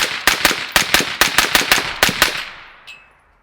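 Rapid semi-automatic rifle fire from an untuned 16-inch barrel with a Black Anchor Nautilus suppressor: about a dozen sharp, evenly spaced suppressed shots in a quick string, loud and close, then a short fading tail with a faint metallic clink.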